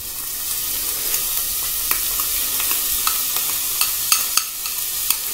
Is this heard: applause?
no